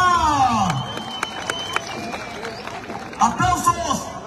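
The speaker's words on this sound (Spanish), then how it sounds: "Aplausos para esta pareja." Crowd at an outdoor dance contest in Santa Lucía Ocotlán, Oaxaca, clapping and cheering for a dancing couple, with scattered claps and crowd noise under loud talk from a host and bursts of voices toward the end.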